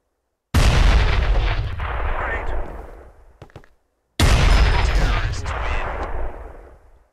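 Grenades explode in a video game, two big booming blasts a few seconds apart, each with a long rumbling decay.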